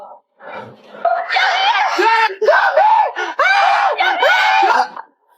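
Loud, drawn-out screams rise and fall in several long bursts, close up, with a brief murmur of voices at the start.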